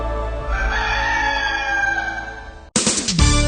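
A rooster crows loudly and up close in a radio advertisement, one long drawn-out call with a ringing tone, cut off abruptly and followed by a brief burst of clucking and another short crow.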